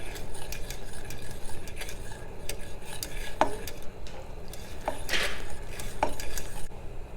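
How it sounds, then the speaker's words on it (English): A spoon stirs thickening Jamaican cornmeal porridge in a pot, scraping and tapping against the sides with a few sharp clinks over a steady low cooking hum. "When I stir, it's a little more resistance."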